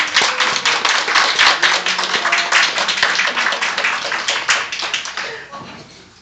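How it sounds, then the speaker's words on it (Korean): A church congregation claps warmly to welcome three visiting guests, a dense patter of hands that holds steady and loud for several seconds before easing off slightly at the end. "세 분 잠깐 일어나시면 뜨거운 박수로 환영하겠습니다"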